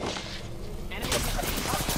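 Gunfire in the Apex Legends battle royale game, a dense rapid burst of shots that thickens after the first second, with speech mixed in throughout.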